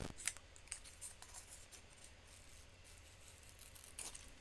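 Scissors cut paper in a papercraft session shaping an owl's talons, giving soft close snips and crisp slicing ticks spread across a quiet background.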